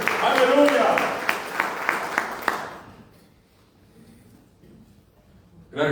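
Applause from a church congregation: a few seconds of steady, close clapping with distinct claps in a loose rhythm, fading into near silence, with a voice speaking over it.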